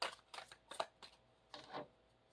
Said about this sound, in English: I really want to shuffle them to get you the right messages.